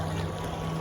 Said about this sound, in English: We're on the lake with our electric motor.